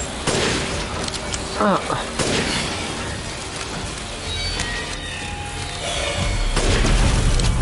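Gunfire from the video game Resident Evil Village, a string of loud booming shots and bursts under a player's voice and game noise, continuing through the stretch.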